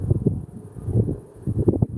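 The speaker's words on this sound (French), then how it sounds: "Un peu de vent, c'est pour ça que c'est chiant." Low, gusty wind buffets the microphone in uneven rumbling bursts, rising and falling over a couple of seconds with no voices.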